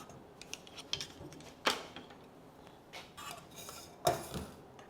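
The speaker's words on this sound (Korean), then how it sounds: "또 다른 냄비로 옮겨줄게요." Scattered clinks and clatters of utensils against cookware as a whole chicken is moved into another pot, with a couple of sharper metallic knocks, nearby and otherwise quiet.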